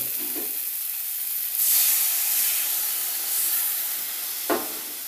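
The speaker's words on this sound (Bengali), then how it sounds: "এবার দেখুন পোস্তর থেকে তেল ছেড়ে দিয়েছে, এবার আমি দিয়ে দেবো জল।" Water poured into hot oil and poppy-seed paste while cooking river pabda fish, a sharp hissing burst of steam that swells, eases into a steady sizzle, then flares again briefly near the end, close up with no voices.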